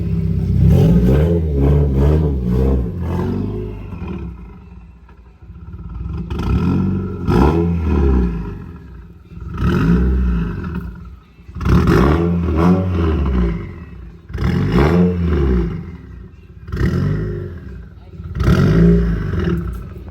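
A 2022 Ford Mustang GT with an oil pump gear fault runs noisily, its engine rising and falling in repeated surging bursts that sound close and loud, with pauses between them.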